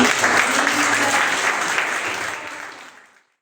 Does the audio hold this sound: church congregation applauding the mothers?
yes